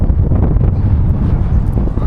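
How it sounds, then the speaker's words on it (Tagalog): Loud, blustery wind outside Titanic Belfast in Belfast buffets the microphone with a rumbling, low roar that stays constant throughout. "Mahangin."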